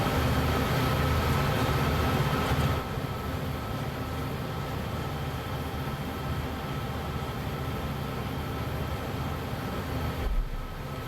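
A freight train rolls along the track at about 10 mph, a loud steady rumble and rattle of wheels and cars that eases slightly a few seconds in and carries on unbroken, with no talk.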